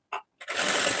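A sewing machine stitches invisible piping around a rounded neckline: one short burst of running, a brief pause, then a steady close, continuous whir that carries on to the end.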